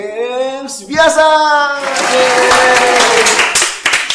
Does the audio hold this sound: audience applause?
yes